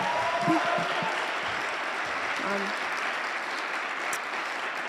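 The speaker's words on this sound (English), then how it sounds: "can we just give a huge round of applause for our youth this year?" A crowd at a Boys & Girls Club Youth of the Year event breaks into sustained applause, broad and even clapping filling the room, with a few voices briefly audible early on.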